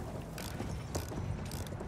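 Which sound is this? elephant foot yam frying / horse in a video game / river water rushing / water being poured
horse in a video game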